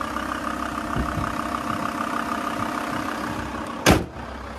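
A VW T4 Caravelle 2.5 TDI diesel engine idles smoothly and evenly up close, a steady low rumble broken near the end by a single sharp thump like a door.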